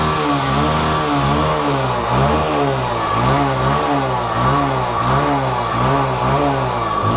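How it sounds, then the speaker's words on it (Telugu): A motorcycle engine running with cooking oil, salt, chilli, turmeric, sugar and spices in it idles loudly and steadily, its pulsing exhaust note wavering in regular rhythmic surges throughout. "బాగానే రన్ అవుతుంది ఇంజిన్ అయితే"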